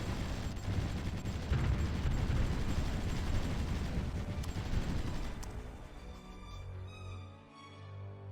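Artillery and small-arms gunfire from the strategy game Supreme Ruler Ultimate: a dense, continuous rumble of overlapping shots and booms for about six seconds, then thinning to scattered lower thuds and tones.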